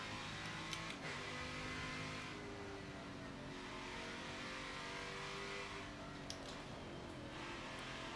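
A car driving in the Forza racing game gives a steady engine drone with rising and falling harmonic pitch as it accelerates and shifts, continuous and fairly quiet, with no talking.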